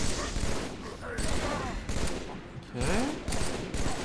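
Rapid bursts of gunfire from Halo 3 combat, loud and sustained across the moment with brief gaps, and a voice speaks briefly over the shooting.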